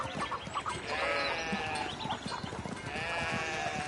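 Sheep in the medieval village world of the game Pentiment bleat loudly in two long wavering calls, one after another, over a busy background of rustling and ambient game sound, with no talking.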